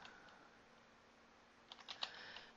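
Quiet, close keystrokes on a computer keyboard, a short burst of several taps clustered near the end over faint room hum, with no voices.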